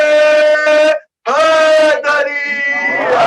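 A crowd at a Shia majlis gathering chants a religious slogan in unison, several loud bursts of raised voices with a short pause between them, followed by a long sustained shout.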